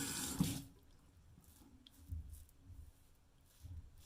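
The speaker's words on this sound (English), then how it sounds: "Take warm water. What I like to use is a warm water rinse." Warm water runs briefly from a tap for rinsing after a wet shave, a short splashing burst followed by quieter drips and soft splashes at intervals.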